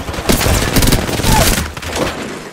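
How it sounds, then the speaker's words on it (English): Gunfire in Apex Legends comes as a quick burst of loud, close shots in rapid succession, with a few scattered cracks. "I'm taking shots."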